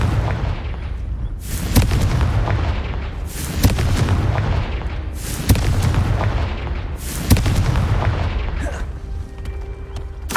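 Repeated Confringo fire-spell explosions in the video game Hogwarts Legacy: four loud booming blasts land about every two seconds, each with a sharp crack and a rumbling tail, over continuous low battle noise.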